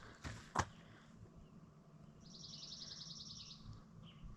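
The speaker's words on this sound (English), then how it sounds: "Absolutely no noise other than birds." A bird chirps in a quiet, crisp early morning beside hot springs, a brief rapid trill rising faintly after a couple of sharp knocks, distant and soft over low ambient hiss.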